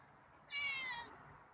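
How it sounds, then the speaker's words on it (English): A feral cat lets out a single squeaky, high-pitched meow, close and clear, lasting about half a second against a quiet room background. "That was a real squeaky meow."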